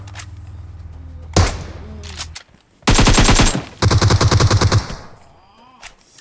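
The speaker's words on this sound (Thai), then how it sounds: "ใครยิงกันวะเนี่ย" Loud bursts of automatic gunfire in PUBG: a short volley, then two sustained rapid-fire strings a few seconds apart, with distinct clipped shots and silence in between.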